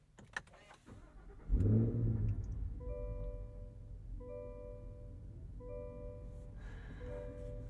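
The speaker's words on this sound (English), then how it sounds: "Let's take the Escalade V out for a drive. All right, let's fire it up." A Cadillac Escalade V starts up: a sharp crank and catch into a loud deep roar that settles into a steady, rumbling idle heard from inside the truck.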